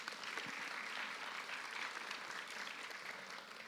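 A congregation at a church service gives brief, steady applause. The clapping is dense and evenly sustained for a few seconds, at moderate distance and fairly faint, with no talking over it.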